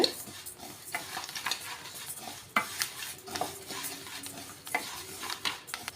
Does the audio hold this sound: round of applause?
no